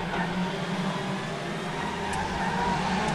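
A 1992 DTM touring car races in the RaceRoom sim racing game, its engine droning steadily and loud at sustained high revs throughout.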